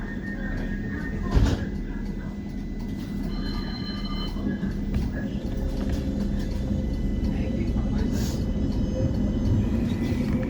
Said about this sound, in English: Please hold tight. This tram is about to depart.